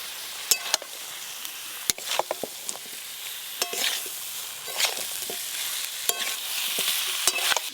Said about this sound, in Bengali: মশলার সাথে আলু, কাঁকরোল আর চিংড়ি মাছ খুব ভালো করে কষে নিয়েছি